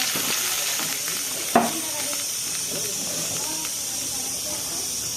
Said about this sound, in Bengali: এর মধ্যে আমি লঙ্কাটাকে দিয়ে দিচ্ছি, জলটা দিয়ে দিচ্ছি